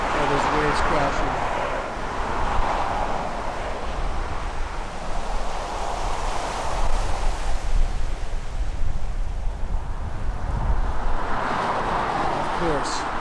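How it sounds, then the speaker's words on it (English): Ocean waves crash and wash along the shore beside a mountain road, a loud continuous roar of surf with swelling surges, mixed with wind buffeting the microphone. "All those waves crashing."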